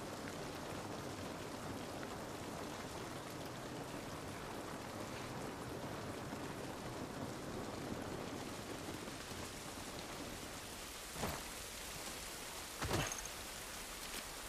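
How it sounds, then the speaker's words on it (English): Steady rain pours down in an outdoor scene from The Last of Us Part 1 on PC, a dense even hiss with two brief louder splashes or rumbles near the end, no voices. "This rain ain't gonna do us any good."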